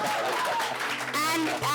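Audience applause at a cricket and technology talk event for an app launch, a steady wash of clapping under a voice speaking throughout.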